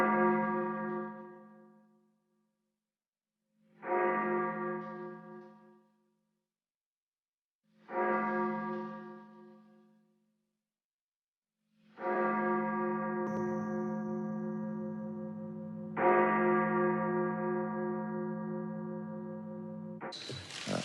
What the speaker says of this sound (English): It's the Liberty Bell and it's ringing.